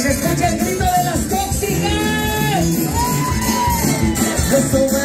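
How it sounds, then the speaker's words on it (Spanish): A loud crowd at a Mexican restaurant party shouts and whoops together in Spanish, voices overlapping in a sustained, rowdy roar that stays strong throughout. "Que se escuche el grito de las"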